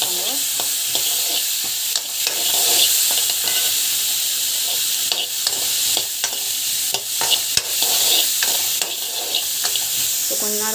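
Chillies, tamarind and coconut sauté in a pan for chutney, a steady close sizzle broken by repeated sharp taps and scrapes of the spoon as the mix is turned, with no one speaking.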